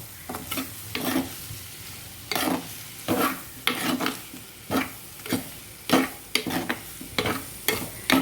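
Stirring Angamaly mango curry with spice powders in a pan, with repeated scraping strokes of a spoon in a steady rhythm over a light sizzle, close and clear.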